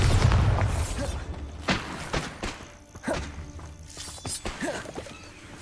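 A Bombarda blasting spell in the Hogwarts Legacy video game, heard as several dull booming thuds and impacts scattered across a noisy battle soundscape, with a loud low rumble at the start.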